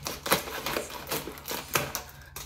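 Scissors cut through food packaging in a kitchen, a series of about five sharp snipping crunches at an uneven rhythm, close and fairly loud.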